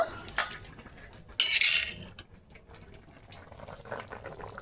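Ground raw cumin paste goes into a pot of banana curry: close utensil clinks against the pot and a brief wet splash and scrape, followed by softer liquid sounds.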